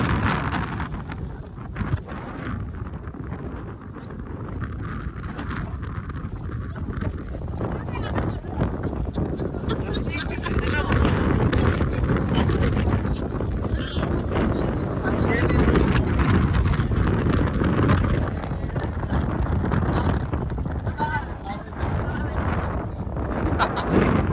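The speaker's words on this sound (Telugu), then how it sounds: "వర్షం స్టార్ట్ అయింది, ఘోరమైన గాలి" Strong gusting wind buffets the microphone with a roaring rush, rain mixed into the dense, continuous noise, at Chennur Agasthiswara temple.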